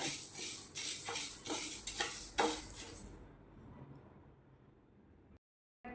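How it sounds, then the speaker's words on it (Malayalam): Dry lentils rattle and scrape in a pan as they are dry-roasted and stirred, a steady scratchy shuffling with clinks, then quiet for the last few seconds. "പയർ ആദ്യം നന്നായിട്ടൊന്ന് വറുത്തെടുക്കുക."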